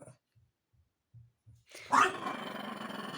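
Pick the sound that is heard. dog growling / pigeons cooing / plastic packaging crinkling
dog growling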